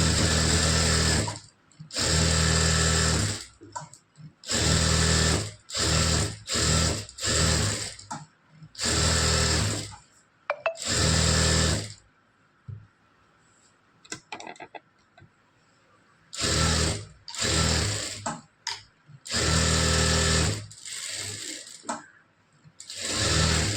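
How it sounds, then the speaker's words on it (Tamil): A sewing machine stitches a blouse lining in repeated bursts of loud, close, whirring runs, with short pauses and fabric handling between them. "இப்போ எப்படி ஸ்டிச் பண்ணுறதுங்கிறது பாருங்கள்."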